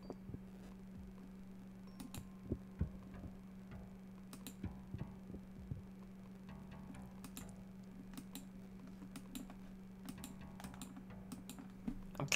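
Sharp, sparse clicks of a computer mouse, single and in quick pairs, close and crisp over a steady low electrical hum, with no talk.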